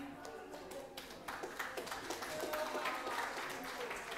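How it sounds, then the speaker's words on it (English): An audience at a Mothers and Women's Day event gives the organiser a quiet round of applause, scattered clapping building slightly while voices murmur and talk underneath. "can we give Hawa a final thank you and round of applause for organising us?"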